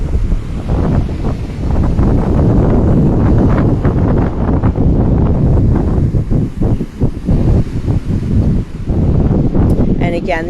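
Steady roar of ocean surf on a beach, with heavy wind buffeting the microphone throughout and no pause in the loud, dense wash.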